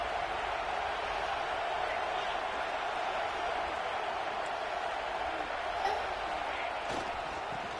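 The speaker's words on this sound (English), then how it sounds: "this crowd is at fever pitch" A football stadium crowd roars steadily through a third-down play in the red zone, a dense, continuous wash of cheering and noise that holds at a constant loud level from start to finish.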